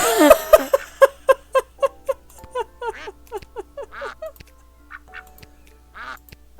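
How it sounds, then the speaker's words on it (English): Cartoon duck quacking in the video game Lil Guardsman, a rapid run of about a dozen evenly spaced, nasal quacks that slow and scatter toward the end, loud and close with no talking. "I told the producer I refused to work with a duck."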